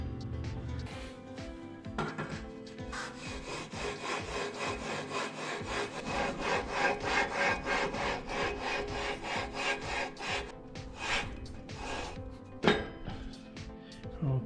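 An engine valve on a 212 cc small engine is lapped against its seat with valve grinding compound. Repeated gritty rubbing strokes run in a steady back-and-forth rhythm, with a few light clinks, close and fairly quiet.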